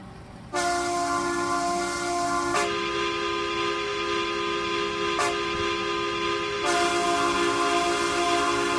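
Video-game trains in RO-Scale Sandbox roll past loudly, with sustained multi-tone horns sounding for several seconds and changing pitch in abrupt steps, no talking.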